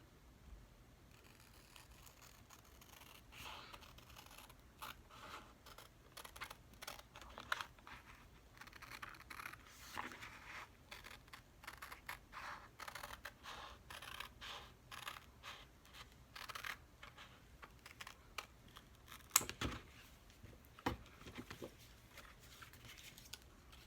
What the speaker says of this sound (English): So let me cut them out first.